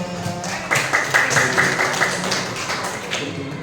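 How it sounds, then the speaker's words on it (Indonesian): Children applauding together in a classroom, a brisk, dense patter of many small hands clapping for a few seconds, fairly close and without speech on top. "Wah, hebat, tepuk tangan semuanya."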